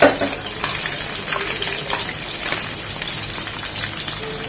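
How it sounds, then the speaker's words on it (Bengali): Meni fish frying lightly in a pan of oil gives a steady, dense sizzle with crackling pops throughout, close and fairly loud, with no talking. "খুব বেশি কড়া করে ভাজবো না হালকা করে এটি টুকি এক মিনিট এক মিনিট করে ভেজে নেব"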